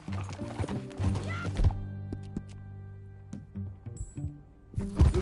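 Horse hooves clip-clopping at an easy walk in the video game Red Dead Redemption 2, a handful of soft hoof knocks spread across a quiet stretch between louder bursts of activity at the start and end.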